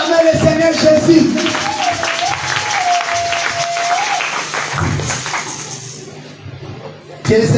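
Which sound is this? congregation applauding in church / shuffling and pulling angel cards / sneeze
congregation applauding in church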